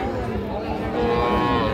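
At a busy cattle market, a heifer calf moos in a long drawn-out call that swells louder toward the end, with faint market murmur underneath.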